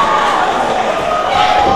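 A wrestling crowd at a Reality of Wrestling TV show roars steadily and loudly as fans rally behind wrestler Mia Friday, a dense continuous wall of cheering with talk mixed in.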